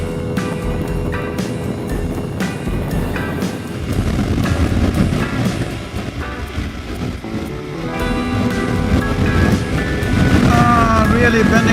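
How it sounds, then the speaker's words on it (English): Strong wind gusting around 35 miles per hour roars and buffets the microphone continuously, a loud, rumbling rush with a droning engine-like hum beneath it. "the wind gusting at probably 35 miles"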